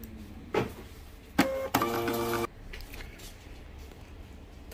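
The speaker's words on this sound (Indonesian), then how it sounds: "Ok, test print." A thermal printer runs a test print: a short burst of whirring feed, then a louder buzzing print pass lasting under a second, close and clear in a quiet room.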